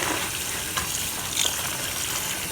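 Water runs steadily from a kitchen tap as an oxtail roast is rinsed, a constant close hiss with a couple of faint splashes and no talk.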